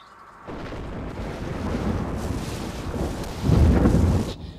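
A deep rumble of thunder rolls in and builds, swelling to a loud peak near the end before fading, with no voices.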